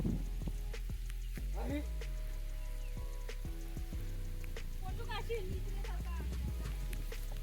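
Fine drizzle patters steadily outdoors on farmland, a continuous soft hiss with occasional drop ticks, while people talk over it.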